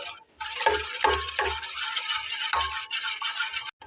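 A kaon rice dessert mixture thickened with cornflour is stirred continuously in a pot, with repeated scraping strokes of a spoon and a light sizzle beneath, ending in a brief pause.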